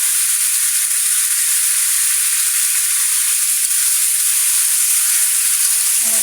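Ginger and garlic paste frying in a pan while being stirred: a loud, steady, close sizzle with a constant hiss, and a few soft scraping stirs underneath.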